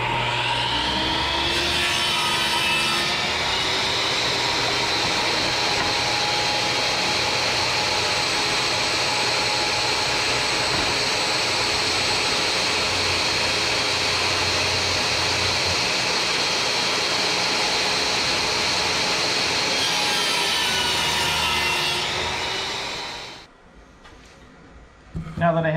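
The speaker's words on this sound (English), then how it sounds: "So I'm gonna cut this into 24-inch sections, and that'll give me enough for 4 of these." A power saw cuts a long piece of wood into 24-inch sections for a classroom table barrier, its loud, steady whine running for about twenty-three seconds before stopping abruptly, with a brief clatter afterward.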